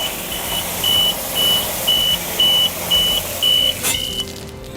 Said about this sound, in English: it also has an alarm, so if other people come along and he needs help, it'll automatically notify everyone